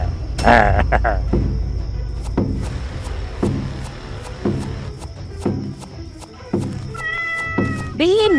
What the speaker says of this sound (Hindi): बिल्ली म्याऊं म्याऊं करती यहाँ वहाँ चलने लगी।